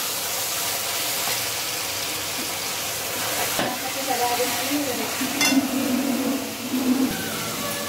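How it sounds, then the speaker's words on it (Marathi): Ground onion, tomato, chili and ginger-garlic paste frying in hot oil, a steady loud sizzle with spatter crackles and the scrape of a stirring spoon, alone without talk. "कांदा, टमाटा, मिरची आणि अद्रक लसूण वाटलेलं होतं ते आपण टाकणार आहोत त्याच्यामध्ये"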